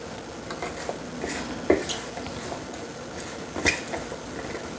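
Vegetables being stirred and tossed with a tablespoon of Indian curry spice for seafood fried rice, giving soft scraping and rustling with a few light clinks of utensil on bowl, close and moderately quiet.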